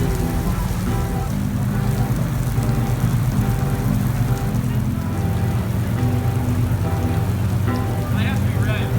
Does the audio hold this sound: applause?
no